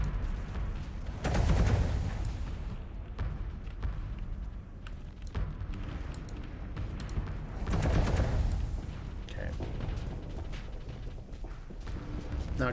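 Ship weapons fire in the space combat game Starsector, a dense stream of overlapping shot bursts and booms that swells at moments amid continuous mechanical game noise.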